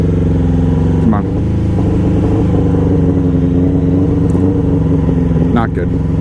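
A motorcycle engine restarted after stalling drones loud and steady up close, with brief throttle blips rising in pitch near the start and near the end, and a voice talks over it.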